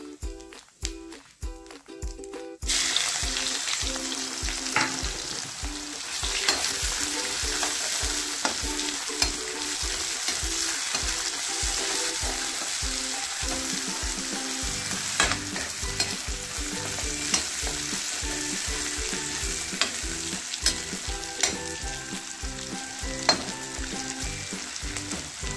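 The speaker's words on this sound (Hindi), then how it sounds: "तेल हो गया है, डाल दिया जीरा" Cumin seeds dropped into hot oil, frying with a loud continuous sizzle and crackle, heard close and without talk, with repeated stirring scrapes throughout.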